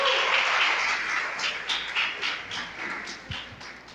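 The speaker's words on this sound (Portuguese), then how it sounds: "Você pode aplaudir então a Daline." A women's congress audience applauds steadily at close range, a broad wash of clapping that slowly fades over four seconds with a few distinct claps near the end.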